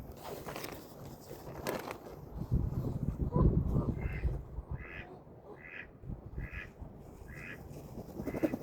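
Ducks at a pond during an ice storm and heavy snow, a series of evenly spaced, fairly close quacks repeating about every second after some shuffling and crunching footsteps.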